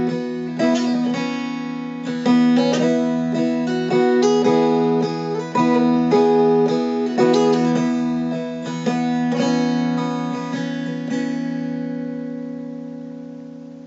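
A mountain dulcimer, noter style, plays a tune ornamented with pushes, drags and grace notes. Quick plucked notes sit over a steady drone that rings on and fades out at the end.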